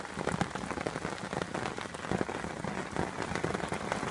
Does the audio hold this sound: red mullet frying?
no